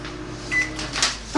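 An Amazon Smart Oven microwave being stopped mid-defrost of a cup of broccoli: a steady motor hum, a short electronic beep, then a click as it halts.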